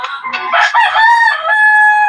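A rooster crows loudly and close by in a rural yard, one long drawn-out call rising then holding steady to the end, alone without speech.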